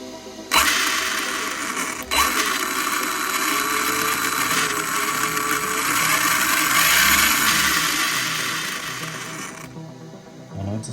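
An Arma Felony 6S RC car's electric motor whines steadily as the throttle is trimmed, a loud continuous mechanical drone lasting most of the clip before cutting off near the end, with no talking.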